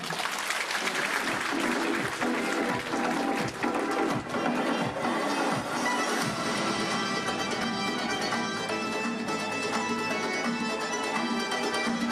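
At a concert marking the Days of the Republic of Ingushetia in Samara, the audience applauds loudly and steadily as a People's Artist singer takes the stage, the clapping continuous and full, with music rising in underneath.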